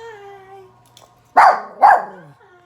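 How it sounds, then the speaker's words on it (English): Two loud, close dog barks from pet puppies at home, sharp and evenly spaced, following a quieter stretch of low background hum. "Who are you barking at?"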